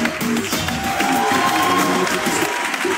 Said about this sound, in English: Big round of applause to Helmy Ashler